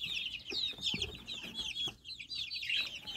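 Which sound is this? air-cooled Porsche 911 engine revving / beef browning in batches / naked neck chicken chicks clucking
naked neck chicken chicks clucking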